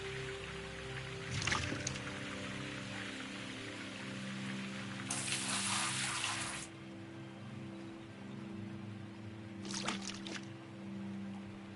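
Buckets of water are emptied in the video game Gold Rush in three separate rushing pours, one short, one longer and one brief, each a clear splash over a continuous tonal game soundtrack.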